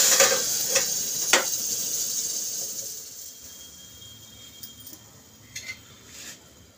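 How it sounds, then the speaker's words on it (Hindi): Mustard seeds crackle in hot oil tempering for kadhi, sharp close pops strongest at first, then thinning to a quiet hiss with a few scattered late crackles. "बस राई चटक रही है हमारी"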